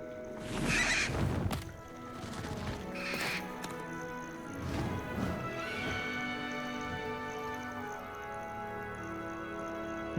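Highwing, a hippogriff in Hogwarts Legacy, gives a few loud shrieking whinnies near the start and again midway, with a horse-like clatter over game music.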